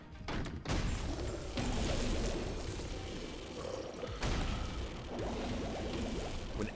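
Rapid bursts of explosive shots from a boss fight in The Binding of Isaac Afterbirth+, a dense, continuous barrage of loud game effects layered with pops and crashes throughout.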